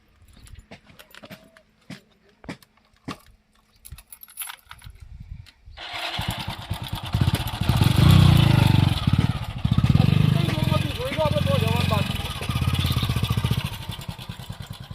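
Keys jangle and a motorcycle is wheeled up, then its engine kicks into life and idles loudly with a steady throbbing rumble, people talking briefly around it.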